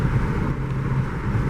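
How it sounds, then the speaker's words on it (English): Wind roars past a moving car, a steady broad rush with a low engine hum beneath it, constant and fairly loud the whole time. "That's a lot of noise coming from the wind"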